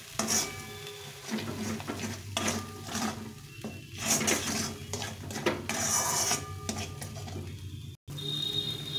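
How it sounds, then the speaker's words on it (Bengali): Spices with turmeric and salt stir-fried in a pan for a cauliflower and chana dal dish, a spatula scraping and clinking against the metal steadily throughout, with a soft sizzle beneath and a brief gap near the end. "আর লবণ দিয়ে এটাকে ভালো করে কষিয়ে নেব।"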